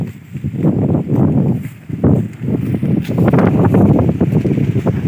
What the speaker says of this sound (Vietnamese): Gió quá các bạn ơi.